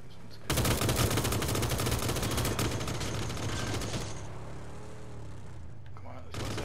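Gunfire in PUBG: Battlegrounds, rapid loud bursts of automatic shots sustained for several seconds, with players talking over the shooting.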